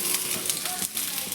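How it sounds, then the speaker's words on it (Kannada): Ginger and green chilies fry in a pan with a dense, steady sizzle and some stirring scrapes, close up and continuous for a brief moment. "ಶುಂಠಿ, ಖಾರದ ತಕ್ಕನಾಗಿ ಹಸಿಮೆಣಸಿನ್ಕಾಯಿ, ಇಷ್ಟನ್ನು ಚೆನ್ನಾಗಿ ಫ್ರೈ ಮಾಡ್ಕೊತಾ ಇದ್ದೀನಿ"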